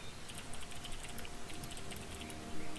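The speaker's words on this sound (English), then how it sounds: "I hear you typing a tweet to me." Fast typing on a computer keyboard during an online game match: quick, irregular key clicks at close range, with no talk.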